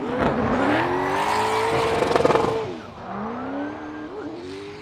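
A turbocharged LS-engined Subaru BRZ on Falcon tires drifts at a Formula Drift qualifying run in Atlanta, its engine wailing loud and high, revs climbing and dipping, tire squeal layered over the roar before it eases off.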